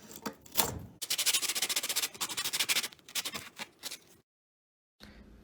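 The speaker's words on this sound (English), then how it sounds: "I start by cutting off 2 pieces of a wooden yardstick" A saw cuts through a wooden yardstick in rapid rasping back-and-forth strokes, close and fairly loud, then stops into a brief silence before a little handling noise.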